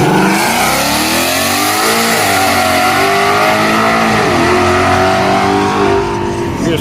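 A car engine with an open header dump revs hard and loud, with a raw, unmuffled roar that rises and falls in pitch while the engine is pushed close by. Talk in the background is masked by the noise.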